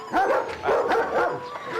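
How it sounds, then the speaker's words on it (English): A dog kept for security barks and yips several times in close succession, fairly loud and near, with whimpering tones between the barks. "Dogs for security, Hailu?"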